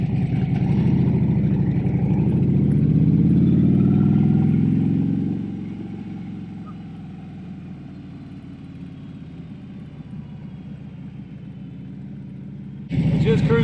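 Harley-Davidson Road King motorcycle cruising through a neighborhood on new tires, a steady loud engine drone and road rumble that eases to a quieter cruise partway through, then swells again near the end.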